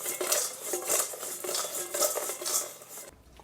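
Hot fried chicken and shrimp are tossed with seasoning in a metal bowl or pan, giving a steady, close rattling and scraping that ends abruptly, with no talking.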